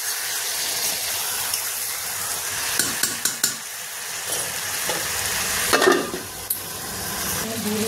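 Kasturi chicken masala being stirred and fried in a pan, a constant close sizzle with scraping spoon strokes and a few louder clanks against the metal, and no talking.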